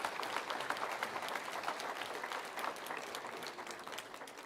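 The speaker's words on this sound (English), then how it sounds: "a big round of applause to the entire organizing committee" A crowd applauds the organizing committee at the inauguration of a startup convention, dense steady clapping filling the room from start to finish, fairly close and without speech.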